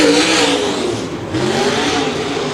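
A late model race car engine roars on a qualifying lap at Davenport Speedway, a loud sustained drone that dips slightly midway and then holds steady, with no pause in the noise.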